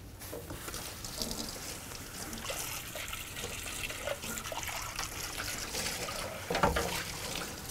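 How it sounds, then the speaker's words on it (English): A bowl is rinsed under a running kitchen tap, a continuous moderate stream of splashing water with small clinks and one louder knock near the end, no talking. "I'm going to rinse this out a little bit."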